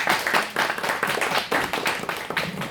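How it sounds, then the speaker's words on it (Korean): Church congregation applauding together after a sermon, a dense steady patter of many hands clapping in a hall, sustained for a few seconds without talk. "우리 귀한 말씀 전해주신 김태정 선교사님께 한번 감사의 한번 박수 한번 드리겠습니다."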